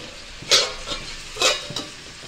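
Butter dropped onto hot charcoal in a bowl to smoke tandoori chicken, giving bursts of sizzle and hiss, two stronger flare-ups with fainter ones between, close and fairly quiet.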